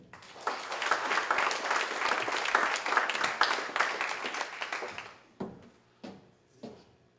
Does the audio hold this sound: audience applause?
yes